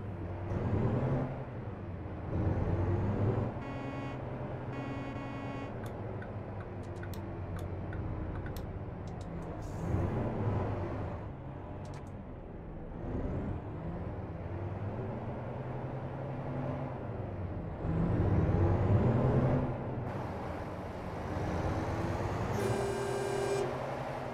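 A Mack truck engine in American Truck Simulator drones with a steady harmonic rumble that rises and falls in pitch as revs change, with occasional clicks and ticks layered over it, continuous and fairly quiet.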